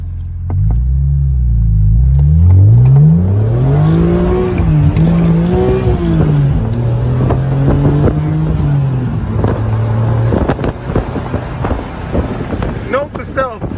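A car fitted with a Rogue Engineering exhaust accelerates hard with a deep rumbling roar that climbs and falls in pitch through the gears, loud and close amid wind buffeting, then fades toward a quieter cruise.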